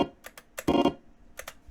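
Short stuttering bursts of chopped, clicky electric guitar sound, irregular and glitchy like a computer, separated by brief near-silent gaps.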